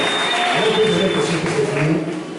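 A church congregation at a French-language consecration service applauds and cheers, a continuous roar of clapping mixed with voices calling out, loud and close.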